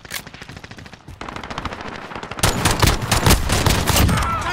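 Rapid automatic gunfire from the video game Call of Duty: Modern Warfare, dense bursts that swell into a louder, heavier barrage halfway through, with constant sharp cracks and no pauses.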